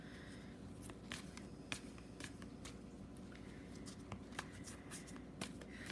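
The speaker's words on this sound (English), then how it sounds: "I'm just shuffling the last deck that I'm going to be using." A deck of tarot cards is shuffled by hand, with soft papery riffles and sharp flicks recurring irregularly, quiet and close.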